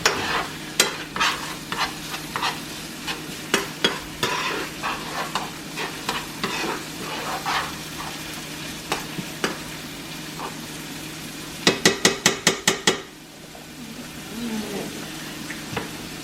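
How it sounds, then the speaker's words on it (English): Onions and minced garlic sauteing in a pan, a soft continuous sizzle under repeated sharp scrapes and taps of a utensil, with a quick burst of rapid clatters near the end before the sizzle fades. "I just finished sauteing the onions and the minced garlic"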